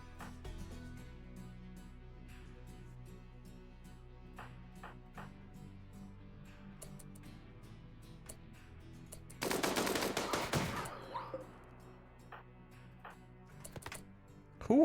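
RimWorld video game gunfire: scattered single shots and clicks over a quiet background, then a dense burst of rapid machine-gun fire in the middle, with a few more sharp shots near the end.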